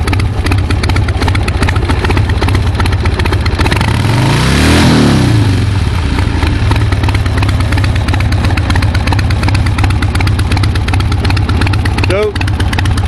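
A carbureted motorcycle engine with a carb problem runs loud and steady throughout, revving up once near the middle and then dropping back to a rough idle. It is said to sputter under load.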